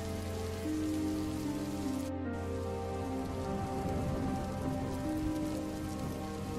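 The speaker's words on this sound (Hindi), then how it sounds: "ठंड की पहली बारिश है, सुबह तक खत्म हो जाएगी।" Steady cold winter rain pattering on a surface, a dense continuous hiss with a low steady hum underneath and no voices.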